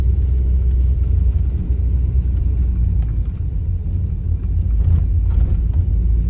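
Old Volvo 960GL engine climbing a hill in Drive at about 2000 rpm and 20 km/h, a steady low droning rumble heard from inside the car, no talk.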